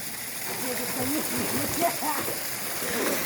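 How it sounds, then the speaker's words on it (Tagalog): Water pours steadily down a man-made waterfall at a restaurant in an adventure park in Alfonso, Cavite, a continuous splashing rush heard close by, with voices talking over it. "Meron silang ano, man-made falls."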